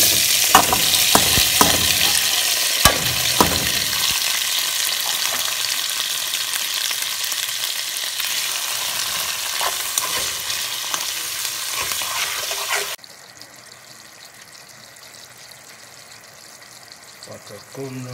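Garlic fries and is stirred in a pan while breakfast and lunch are cooked, giving a steady bright sizzle with scraping stir clicks early on. The sizzle drops to a softer hiss near the end.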